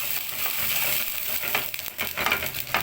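Garlic fries in butter in a pan, with vinegar added, producing a close, steady crackling sizzle with occasional sharper pops and stirring noises, and no voices.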